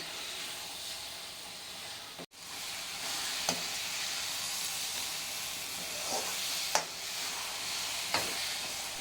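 Masala frying in a pan for tomato paneer palya, a continuous loud hiss and sizzle with a sharp knock early on and a few scattered scrapes of a utensil against the pan.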